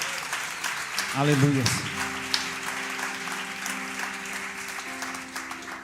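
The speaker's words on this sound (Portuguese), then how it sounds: "Aplauda Jesus" A church congregation claps during a sermon, a steady wash of applause while a voice calls out loudly over it, followed by a sustained organ-like tone.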